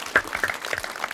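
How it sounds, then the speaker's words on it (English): A round of applause, dense crowd clapping in a quick steady patter of overlapping claps, moderately loud and sustained without voices over it. "Round of applause for Wayne."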